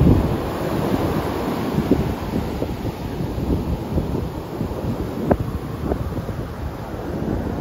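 Strong ocean waves crash on the beach at Pawikan Resort in Morong, Bataan, making a steady broadband roar with heavy wind buffeting the microphone and a few sharper surges, with no talking.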